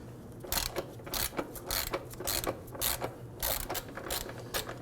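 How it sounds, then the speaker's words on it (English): A hand ratchet loosens fuel tank hardware bolts on a 2005-2009 Subaru Legacy 2.5L H4, giving a close series of quick clicking bursts in irregular spurts with short pauses, no talking. "Let's go ahead and loosen and remove the hardware for this."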